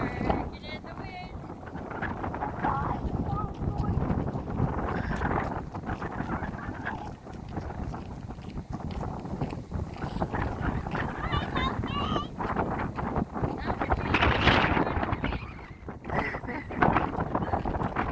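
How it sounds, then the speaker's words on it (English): Gusty wind buffets the microphone throughout a windy morning walk outdoors, a continuous loud rumble with scattered footsteps and brief voices under it. "Just working in the wind."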